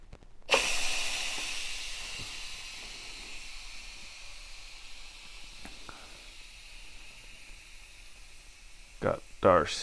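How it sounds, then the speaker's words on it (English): Steam hissing out of an Instant Pot Rio 4qt pressure cooker's release valve, a loud hiss that starts abruptly and slowly fades, with a few clicks and handling knocks near the end. "Got our steam."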